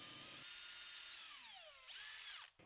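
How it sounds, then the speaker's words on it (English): Power drill pre-drilling holes in wood for an Adirondack chair, a high whining motor that winds down in pitch, revs up again briefly near the end, then cuts off. "Just to avoid any splitting of the wood, I did pre-drill all of the holes."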